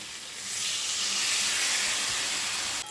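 Water poured into a hot pan of fried paneer and spices gives a steady, loud hiss and sizzle that swells and holds for a few seconds before cutting off abruptly.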